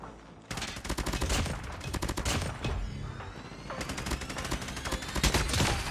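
Rapid bursts of SMG gunfire in the shooter game COD Mobile, loud, dense and almost continuous, with overlapping shots and echoing tails filling the whole stretch.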